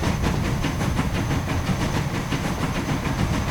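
A train running on rails in Transport Fever, a loud steady rolling rumble with a regular clickety-clack pulse and faint hiss, with no talking.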